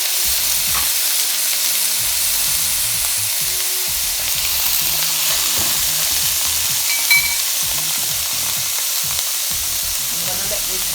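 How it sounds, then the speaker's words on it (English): Seasonings and vegetables for steamed cabbage with okra frying in hot coconut oil: a loud, continuous hissing sizzle held close and steady throughout, with faint stirring movements and no speech. "I'm gonna let this saute."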